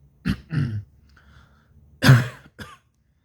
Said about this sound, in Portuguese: Tô tossindo bastante porque tô com a garganta um pouco ruim